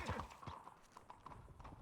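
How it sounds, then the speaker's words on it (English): Horse hooves clip-clopping at a trot, with an occasional whinny, passing nearby over a steady background, in the video game Wild West RP. "I hear horses."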